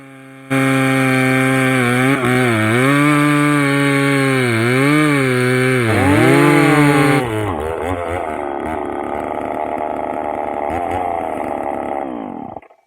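A McCulloch Mac 3200 chainsaw runs loud and close, cutting steadily with its engine pitch rising and dipping under load. It then drops to a rougher, lower drone before cutting out at the end.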